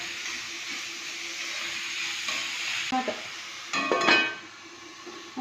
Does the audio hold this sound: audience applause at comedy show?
no